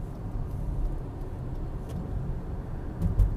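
Road traffic passes nearby, a continuous low rumble of cars and a truck with engine noise swelling and fading, a couple of brief louder thumps near the end, and no voices.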